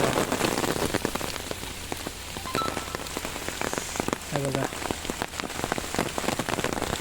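Heavy rain pours down steadily in the Konkan countryside, a dense continuous patter with scattered sharper drops, close and loud throughout.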